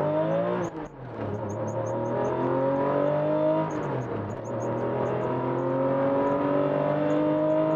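Pink Porsche 996 GT3 accelerating hard, engine note climbing through the revs, a brief dip near one second then a long steady rise, loud and close.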